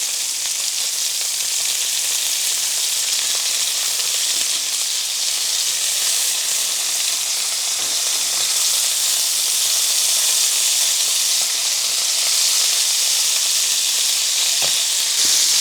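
Pork pieces in an olive oil marinade sizzle on a barbecue grill, a loud, even, close hiss that runs unbroken throughout with only a few faint ticks beneath.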